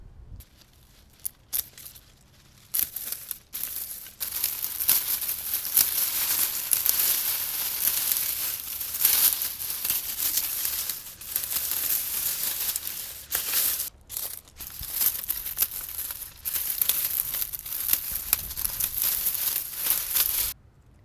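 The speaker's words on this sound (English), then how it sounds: "So these are going to get cut back all the way to the ground." Old dried peony stems in a flower garden are cut back to the ground with crunchy, crackling rustles and snipping sounds, close and continuous with brief pauses, no talking.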